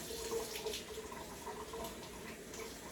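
Tap water runs steadily into a sink as a garlic press is rinsed, a soft continuous splashing hiss at moderate distance with no talk.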